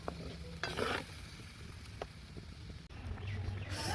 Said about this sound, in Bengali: ভালো করে নাড়িয়ে নিতে হবে।